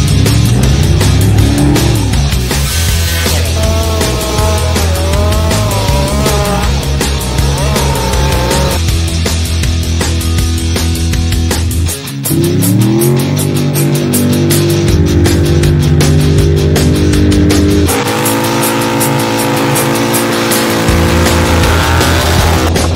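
A 2006 Apex drag race car with a big turbo, roaring loud and close throughout with sustained engine tone and shifting pitch, rising and dropping through the run with constant high-powered noise.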